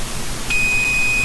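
A continuity tester sounds a steady, high electronic tone as it checks a new strip of copper tape. The beep starts partway in and holds on evenly over a background hiss.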